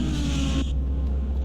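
A Porsche GT race car at Monza in a racing game, its engine a steady loud droning buzz that drops in pitch abruptly partway through as the car exits the Parabolica, leaving a lower rumble.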